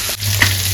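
Fish sizzles as it fries in hot oil with curry leaves, a brief, close, steady crackling hiss with a faint stirring tap.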